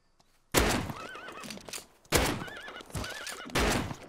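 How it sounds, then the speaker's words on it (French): A horse in the video game Rust neighs in several loud whinnies, interleaved with bursts of clip-clopping hooves, close and clear with no talk. "il y a un cheval là-bas. C'est un cheval"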